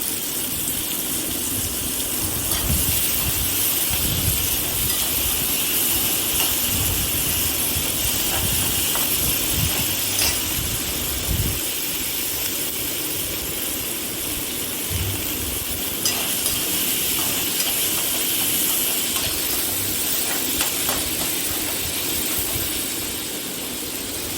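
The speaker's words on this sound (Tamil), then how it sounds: "இஞ்சி பூண்டை மட்டும் அதை அப்படியே எடுத்து போடணும் போட்டு நல்லா அது வாடை பச்சை ஸ்மெல் போகிற வரைக்கும் நல்லா வதக்கி விடணும்" Crushed ginger and garlic sauté in a pan for chicken uppu kari, producing a continuous loud hiss and sizzle with soft stirring bumps throughout, heard up close.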